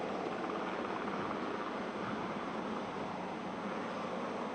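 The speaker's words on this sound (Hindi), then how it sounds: "अब हेलीकॉप्टर ऊपर की तरफ उड़ान भर रहा है" An Indian Navy helicopter, such as a Kamov-31, lifting off during a Navy Day display, giving a loud, steady broadband rotor and turbine roar that stays constant throughout with no talk.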